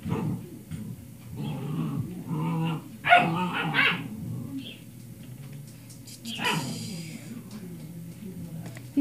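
Dogs barking outdoors in a downtown area, with a few quiet, short barks and yips scattered over soft background noise and faint voices.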